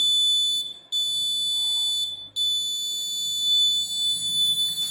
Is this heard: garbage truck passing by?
no